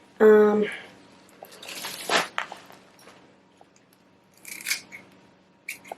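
Scissors snip through plant roots during repotting, giving a few separate close crunchy cuts spaced across the moment, with soft handling noise and occasional quiet talking between them.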